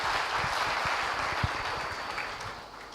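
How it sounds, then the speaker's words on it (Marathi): Audience clapping at the grand opening of a resort restaurant, café and designer studio, a steady dense wash of applause with a few sharper claps, fairly close and continuous for the whole stretch. "एकदा जोरदार टाळ्या झाल्या पाहिजेत"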